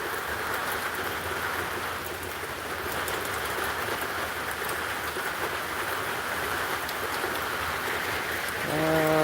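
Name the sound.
rain falling in North Georgia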